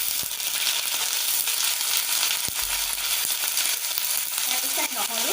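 Onions sizzle steadily in hot oil over a low flame for Assamese sidol chutney, a loud continuous frying hiss with a few stirring knocks and scrapes, close and without talk.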